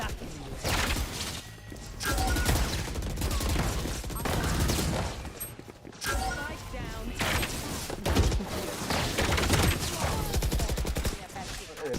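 Rapid bursts of gunfire in a first-person shooter game, dense and loud almost without pause, with crashing impacts and players' voices talking over the shooting.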